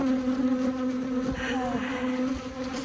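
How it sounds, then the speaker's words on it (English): Africanized hybrid bees buzz loudly and close around a phone, a steady droning hum with wings whirring as they circle near the microphone. "the bees are starting to attack my phone"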